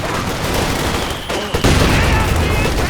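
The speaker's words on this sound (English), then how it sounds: "That mortar landed right on top of the fence." A mortar shell slams down in a Company of Heroes 2 battle, part of a loud, dense wall of explosive blasts and rattling gunfire that barely lets up, with a short dip before the din surges back.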